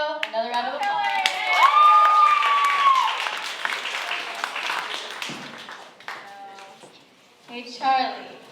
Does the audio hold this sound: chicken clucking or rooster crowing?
no